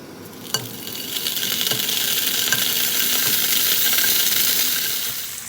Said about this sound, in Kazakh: Қазір екі жағын аударып отырып, сарғайтып қуырамын.